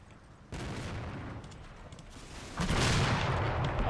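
Area fire in a tank war video game: a sustained, distant rumble of shooting and explosions that swells suddenly louder partway through, with scattered sharper cracks over a steady roar.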